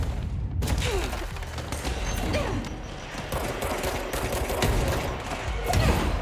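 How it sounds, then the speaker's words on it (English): Dense, continuous gunfire from a firefight in the video game Control, with overlapping shots and thumps filling the whole stretch at a steady, loud level and no talking. "Shots!"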